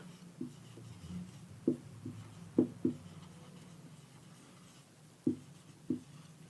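A teacher writes on a board during a maths lesson on rational numbers, making a handful of short, separate strokes and taps spread unevenly over several seconds against a quiet room.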